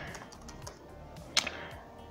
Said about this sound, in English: if I type some text here